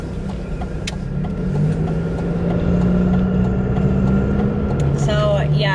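A small new car hums along the road from inside the cabin, its engine drone and road noise steady and close, with a person talking over it.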